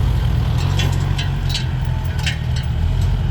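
Yanmar farm tractor engine running at high revs in a fast gear, a steady, loud low-pitched drone with dense harmonics and faint high clatter throughout, no voices.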